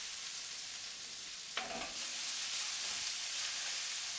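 Bell pepper and rice are tossed in a wok over a quiet, steady sizzle, with a sudden scrape and clatter of the spatula partway through before the frying settles back to a soft hiss.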